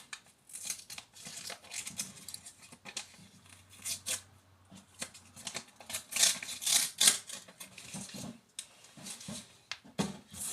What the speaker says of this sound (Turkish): Bu en güzel paketlerimizden birisini açıyorum.